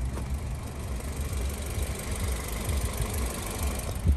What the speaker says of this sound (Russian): Кстати, сейчас заведен автомобиль.